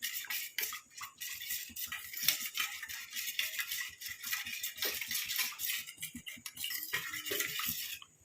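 A spoon scrapes and clinks steadily in a bowl while corn flour and gram flour are mixed into a smooth paste, a quick continuous rattling stir at close range.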